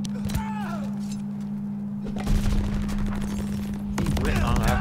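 Gunfire in a first-person shooter match, bursts of shots crackling through the clip under excited talk from a player, with a steady background hum throughout.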